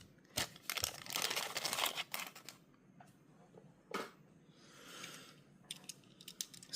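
The box of a red Tomica Premium Lamborghini Countach 25th Anniversary Edition toy car is opened close up. There are bursts of crinkling plastic and cardboard, taps and soft rustles in between, and no talking.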